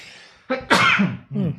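A single sudden sneeze bursts out close by, followed by a short throaty exhale.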